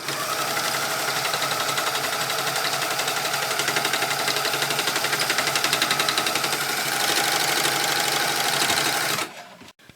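A sewing machine stitches a drawstring pouch made from a T-shirt sleeve, running with a fast, steady mechanical chatter close by for about nine seconds before stopping abruptly.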